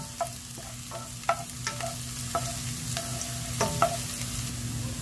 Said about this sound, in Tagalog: Next yung ating garlic. Medyo i-golden lang natin yan.